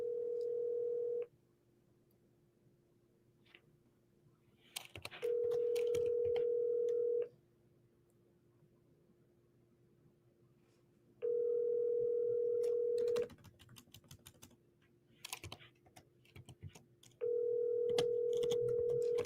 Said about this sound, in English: Are you triple dialing, Tez?